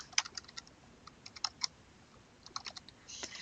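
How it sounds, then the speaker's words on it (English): Computer keyboard typing during a math lecture, with quick bursts of sharp clicks in two clusters separated by a short pause, close and fairly quiet, with no talking. "So let me type that."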